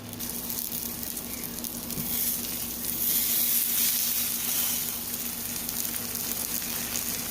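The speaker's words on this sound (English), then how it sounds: "Got it down in my buttery skillet so that I can get one side browned up" Garlic Texas toast fries in a buttery skillet, a steady close crackling sizzle that swells a little midway and carries on without talk.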